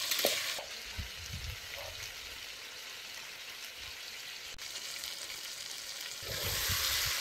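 Cauliflower, peas and potatoes are stir-fried in a village kitchen, giving a steady soft sizzle with occasional scraping and stirring knocks at the start and end.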